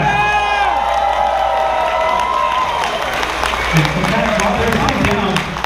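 Large crowd at a furry convention's closing ceremony applauding with cheers and whoops, loud and continuous, while a voice shouts over the noise.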